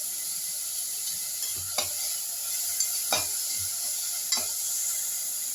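Onions sautéing in a pan with beetroot idiyappam egg curry preparation underway: a steady soft sizzle runs throughout, broken by about three sharp scraping strokes of a spoon stirring, close and alone without talk.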